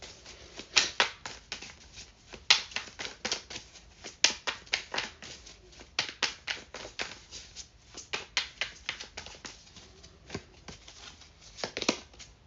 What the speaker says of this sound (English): Let's take out an oracle card just to see exactly what's going on.